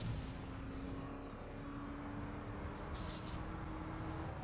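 A car in The Crew video game cruises along with a steady, low engine hum and road rumble, fairly quiet, with brief hissing bursts near the end and no talking.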